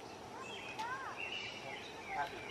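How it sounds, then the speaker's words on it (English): Faint birdsong in a backyard bordering woods, with several thin chirps and whistled calls scattered over soft outdoor ambience, distant and quiet. "can you hear the birds chirping?"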